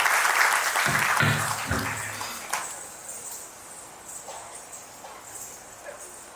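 Enthusiastic audience applause for a mythological dance performance at a Marathi stage event celebrating Rama, loud dense clapping that gradually thins and fades to a scattered patter.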